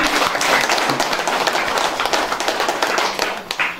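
An audience at an outdoor campaign rally for a regional legislative candidate breaks into sustained, dense applause, many hands clapping steadily at close range for several seconds with no speech over it.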